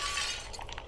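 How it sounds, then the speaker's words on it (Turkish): Glass shattering in a horror video game, a single brief crash with bright scattering fragments that quickly fade. "Vallahi cam kırma sesi duydum ya"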